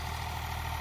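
An Eicher tractor with about 1600 hours of use idles close by, its steady low engine hum running evenly without a break.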